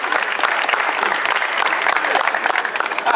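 Crowd at a Brazilian rap battle, Batalha do Villa, bursting into loud, dense applause and cheering that holds steady throughout, with sharp clapping spread across the whole audience.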